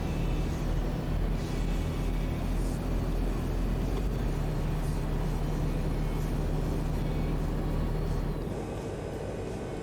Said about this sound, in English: You can definitely hear it retarding.